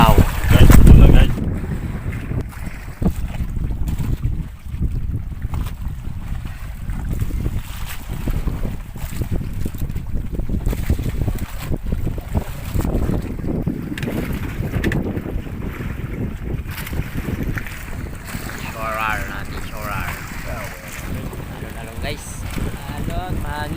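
Strong wind buffets the microphone beside the sea at dusk after sunset, a steady broadband roar with an opening gust, running under a person talking throughout.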